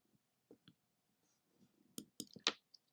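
A few quiet computer mouse clicks while posting to an online forum, spaced sparsely with a small cluster of sharper taps near the end, close and soft, with no talking.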